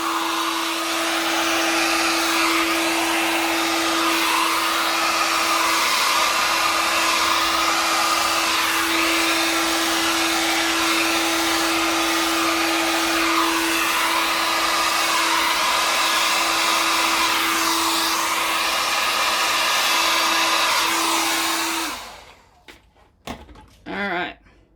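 Blowtorch flame roaring steadily over a Dutch pour acrylic painting, a loud continuous hiss with a faint steady tone underneath, running for over twenty seconds before cutting off into a few brief knocks and near silence.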